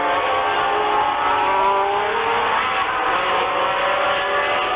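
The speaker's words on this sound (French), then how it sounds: "À plus de 200 km/h, roue dans roue, Arnoux sur Renault et Villeneuve sur" Renault Formula One turbo race cars from 1979 racing wheel to wheel at over 200 km/h, a steady high engine whine with shifting pitch, heard on an old broadcast soundtrack.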